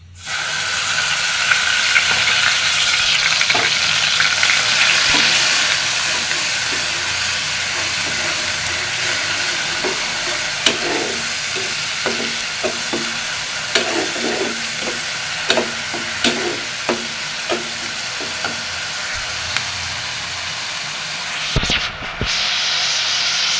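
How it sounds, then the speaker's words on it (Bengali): Cumin seeds splutter and fry in hot oil for an egg dish. A loud, steady hiss runs throughout, with sharp crackles and pops clustering toward the end. The sound cuts out abruptly at the close. "তেলের মধ্যে দিয়ে দিলাম জিরে ফোড়ন।"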